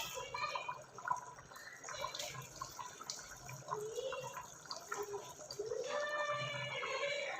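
Water draining off soaked rice for chicken yakhni pulao trickles and splashes softly in uneven spurts, faint and close, with someone talking over much of it.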